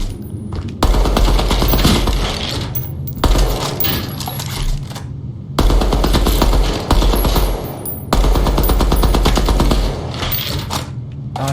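Rapid hip-fired gunfire in the video game Deadrop, loud sustained automatic bursts in four long volleys separated by brief pauses, dense metallic clatter throughout.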